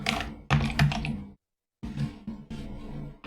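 Quick bursts of keystrokes on a computer keyboard, close and crisp, a short run of clicks, a brief silent pause, then another flurry of typing.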